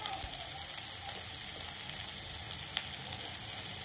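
Finely chopped onion sizzles in a pan as penne pasta sauce starts cooking, a steady soft crackling hiss with small pops, fairly quiet and continuous with no voice over it.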